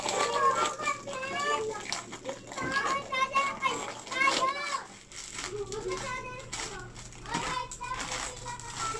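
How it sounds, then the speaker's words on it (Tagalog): Children play outside, their high, lively voices and shouts chattering steadily in the background over a household scene, at moderate volume and without pause. "naglalaro yung mga bata sa labas"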